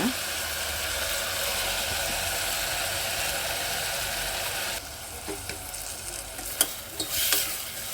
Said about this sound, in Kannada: ಸ್ವಲ್ಪ ಮಸಾಲೆ ಹಸಿ ವಾಸನೆ ಹೋಗೋವರೆಗೂ ಫ್ರೈ ಮಾಡ್ಕೊಳ್ಳಿ